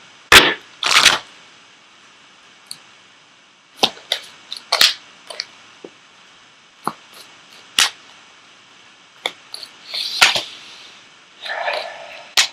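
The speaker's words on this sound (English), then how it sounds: "I am going to go ahead and pull an Ascended Masters card for you as well." Tarot and oracle cards are shuffled and pulled by hand, with a scatter of crisp riffling bursts and sharp slaps and snaps at irregular intervals, close and clear with silence between, no voice.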